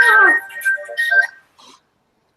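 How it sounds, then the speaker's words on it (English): A mobile phone ringtone goes off indoors during a guided energy session, a bright repeating tone for about a second and a half, fairly loud, then a brief faint chirp after a pause. "Oops, I was supposed to put my phone on silent."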